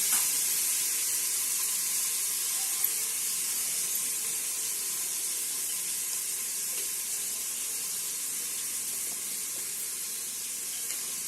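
Onions frying in oil for chicken biryani, with a steady, even hiss of sizzling that holds close and constant throughout.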